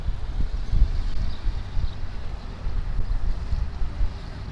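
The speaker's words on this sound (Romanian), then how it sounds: "uite, vine bărcuța" A small tourist boat approaches on the water at Side or Manavgat near Antalya, its low engine rumble steady beneath wind and water noise, with no talking.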